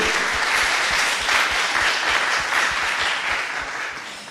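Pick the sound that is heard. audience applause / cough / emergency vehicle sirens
audience applause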